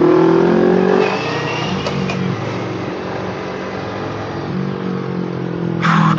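A car drives past on a road near Jamsu Bridge, heard from a motorcycle ride, its engine droning loud and close over steady wind rush and swelling briefly near the end.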